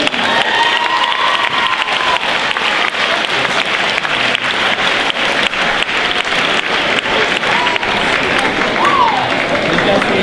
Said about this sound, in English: give Claire, Kevin, and Mr. Hibbert one more round of applause